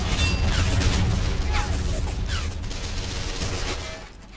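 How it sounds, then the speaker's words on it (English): A 75mm cannon fires in the Men of War war game amid dense battle noise. Rapid crackling gunfire and booming shots blend into a loud, continuous barrage that fades slightly at the end. "75mm cannon just still opening up on them"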